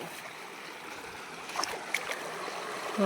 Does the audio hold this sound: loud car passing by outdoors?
no